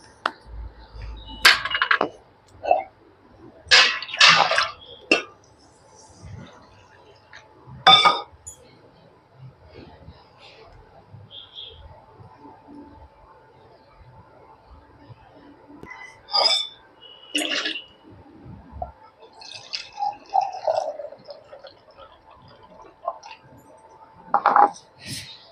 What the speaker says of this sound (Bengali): সামা চালটাকে আমি এবার ধুয়ে নেব।